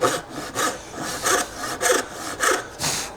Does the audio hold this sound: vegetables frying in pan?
no